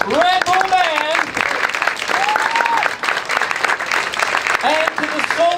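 A crowd at a WWII-style USO show at Fort Snelling, Minneapolis, gives loud, sustained applause for a band, while a voice speaks over the clapping.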